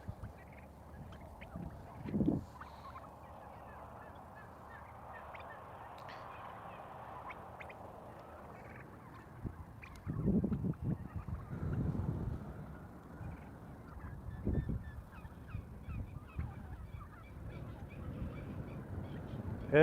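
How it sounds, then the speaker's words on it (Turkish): A male turkey on a small turkey farm gobbles in short bursts among the grazing flock in the cool evening. The calls are faint and somewhat distant over a quiet outdoor background. "Bu arada bizim hindimiz, baba hindimiz."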